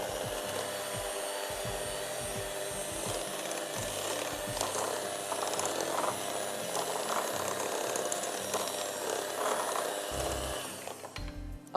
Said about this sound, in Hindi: एक दफा जरा मैं चला लूं बीटर।